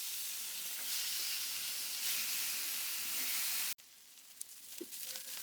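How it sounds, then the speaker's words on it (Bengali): Fish rubbed with salt and turmeric sizzles steadily in hot oil in a pan, a loud continuous frying hiss that cuts off abruptly near the end, followed by quieter kitchen sounds. "এই মাছগুলা সুন্দর করে ভেজে নিতে হবে, লাল লাল করে।"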